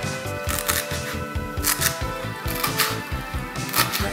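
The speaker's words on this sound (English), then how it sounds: "I'm chopping the parsley now" Fresh parsley and stems chopped with a knife on a cutting board, a quick steady run of close, sharp taps repeating throughout, no talking.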